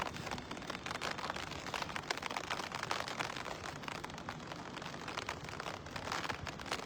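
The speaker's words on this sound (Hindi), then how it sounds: "अभी आपको आवाज़ आ रही होगी कितनी ज़्यादा तेज़ बारिश जो है अभी फ़िलहाल जम्मू में हो रही है" Heavy rain pouring down in Jammu, a steady dense hiss of drops drumming on surfaces that runs unbroken for the whole stretch, close and even in loudness, with no talk over it.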